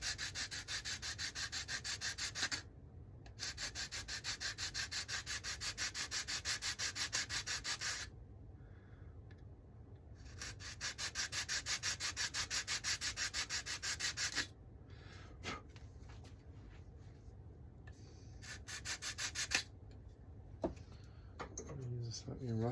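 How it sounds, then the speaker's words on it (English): Sandpaper rubs steadily over the corner edge of a model aircraft part to bevel it, in long continuous bursts with short pauses between, close and fairly loud. "So that needs to be carefully sanded away,"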